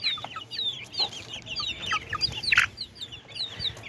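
A white rooster and two golden hens cluck close by in a steady stream of short, overlapping calls, with no talking.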